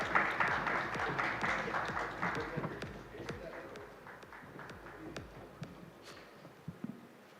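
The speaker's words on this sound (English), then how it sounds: "a round of applause for our moderator, Mr. L.V. Navneet, CEO," Scattered audience clapping at an Indian AI technology summit as a panel moderator is welcomed, fairly soft and distant, thinning out over several seconds into a few isolated claps.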